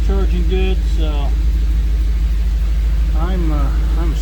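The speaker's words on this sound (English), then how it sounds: "It's idling down low where I wanted it." A car engine idles steadily at low revs after a carburetor fuel mixture adjustment, a continuous deep rumble running throughout, with a voice talking over it.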